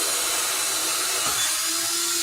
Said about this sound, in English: I'm gonna drill some wire holes